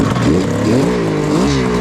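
A 1973 Kawasaki H1 750 three-cylinder two-stroke motorcycle is kick-started and revs up, its engine note rising and falling steadily and loud and close throughout.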